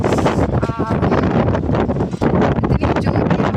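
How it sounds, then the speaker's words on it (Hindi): Strong storm wind buffets the microphone in loud, continuous roaring gusts with rustling, close and overwhelming, while a voice talks faintly underneath. "इतनी जोर की हवा चल रही है"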